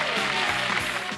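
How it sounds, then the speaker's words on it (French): Audience applause at a stage show as a young performer is presented, a dense steady clapping wash filling the short moment at fairly even loudness. "Vous pouvez l'applaudir."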